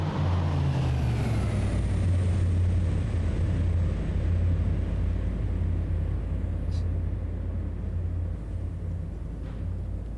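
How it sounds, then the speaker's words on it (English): Lockheed C-130J cargo plane in the DCS World flight game, seen from outside during a cargo drop, produces a broad, continuous turboprop drone that holds steady and loud throughout. "the C-130 cargo drop."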